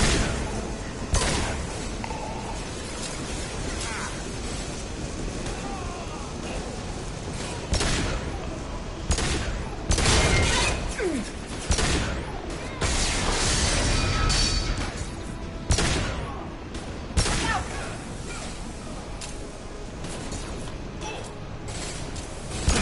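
Sustained gunfire bursts from the video game Mass Effect 2 as shots strike a loose fuel tank, with dense repeated crackling volleys, sharp impacts and a few louder bangs continuing throughout.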